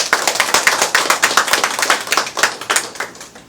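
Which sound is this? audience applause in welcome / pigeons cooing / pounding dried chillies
audience applause in welcome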